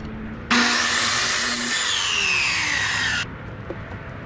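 A saw bites through a wooden stud, trimmed by the thickness of added plywood, in a close, loud burst of cutting lasting under three seconds against a quiet workshop background.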